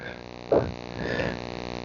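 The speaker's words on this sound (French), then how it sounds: "Crapaud, là, il est là même. Il est resté." A toad croaking outdoors at night, two loud rasping calls in quick succession, close and clear over a steady background drone, with no voices.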